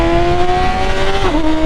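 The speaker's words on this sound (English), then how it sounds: "let's say I'm in 1st gear, and I just take off. Look how much faster the bike" A motorcycle accelerating hard in first gear, a loud steady engine whine climbing in pitch then dropping as the rider shifts, continuous and close with no talk.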